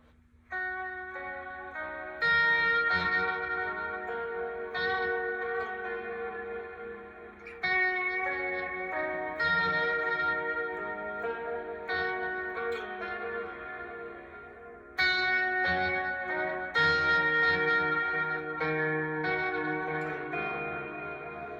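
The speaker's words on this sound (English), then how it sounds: "This one is one of my favorites, with a little bit of delay and some reverb." An electric guitar played through a pedalboard with delay and reverb rings out in sustained, bell-like chords, each new strum swelling loudly and trailing off into echoing repeats, with three or four fresh attacks across the passage and no talking.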